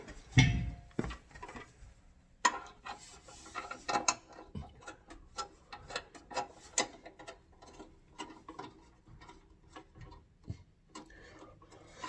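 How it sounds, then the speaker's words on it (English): Propane hose being threaded and fitted onto a Mr. Heater 60,000 BTU propane heater, a run of close metallic clicks, ratcheting ticks and small clanks at an irregular pace, with no talk. "And now we'll go ahead and attach the hose."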